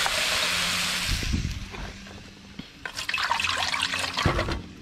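Water is poured into a pot of frying curry beef, cooked outdoors over a fire, giving a running splash and sizzle that comes and goes in bursts over a few seconds.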